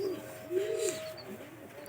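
Pigeons cooing close by in a loft, two or three soft, rolling low coos in quick succession over faint background noise, with no talking.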